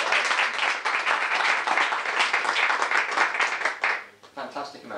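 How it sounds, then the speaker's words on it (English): A seminar audience claps in steady applause at close range that fades out near the end, with a voice speaking over the clapping. "I think a round of applause for Brad."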